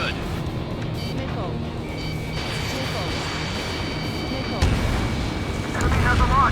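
Missile launch from a MiG-29A fighter jet in the air-combat game Ace Combat 7, a loud burst rising out of a constant, heavy jet roar, with a further surge near the end.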